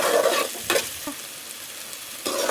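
Tomatoes being stirred as they fry in a pan, short scraping strokes with bursts of sizzling at the start and end and quieter frying between, no talk.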